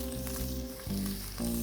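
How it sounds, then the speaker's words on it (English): Pork belly fries in rendered fat in a pot with a steady, dense sizzle and faint popping close by, accompanied by a low constant hum and no talking. "And just fry away for 10 minutes."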